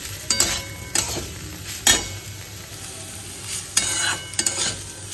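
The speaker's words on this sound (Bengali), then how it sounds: "থোড়টা দিয়ে একটু ভালো করে কষিয়ে নেব" Banana stem with mung lentils and spices being sautéed in a pan, a steady sizzle broken by several sharp scrapes and clinks of a spatula stirring against the metal.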